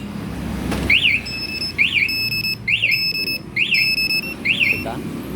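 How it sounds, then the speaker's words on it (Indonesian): A Yamaha WR155 motorcycle smart key alarm: repeating rising-and-falling electronic chirps, sounding in about five regular bursts over a low background hum. "Untuk aktifin alarm dengan mode suara tapi manual"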